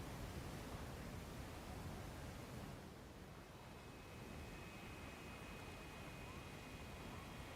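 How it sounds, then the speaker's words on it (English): Waterfall ambience from the PC game Jurassic World Evolution 2 in sandbox mode: a faint, steady rushing hiss of falling water that continues unbroken and is heard alone. "since we're so close to the waterfall, we could just hear the ambience of it"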